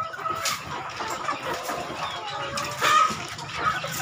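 A flock of about forty chickens on Dinagat Island clucks in scattered bursts, moderately close, with occasional sharper calls from individual birds rising over the background.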